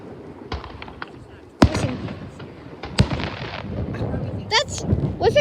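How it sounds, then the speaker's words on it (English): Canada Day fireworks go off at an outdoor show, sharp booms rolling into long echoing tails, with two big bursts and scattered smaller crackles, while people nearby talk and exclaim. "Listen to the echo when another one goes off. That sounds like an explosion."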